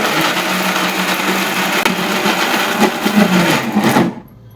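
A kitchen mixer grinder whirs loudly and steadily while grinding a paste for ennai kathirikai kuzhambu, a Tamil brinjal curry, its rattling motor drone running several seconds before cutting off abruptly into near silence.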